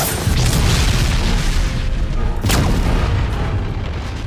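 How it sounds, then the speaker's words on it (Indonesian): A massive booming blast rolls through, a loud sustained rumble with a second sharp burst midway, like a powerful magical explosion effect. "Melea mengcounternya dengan tebasan mana blast, menciptakan sebuah ledakan yang dahsyat."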